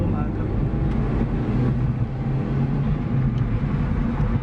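A Honda Civic 7th gen ES on the move, heard from inside the cabin as a steady, loud low rumble of engine and road noise that holds evenly throughout.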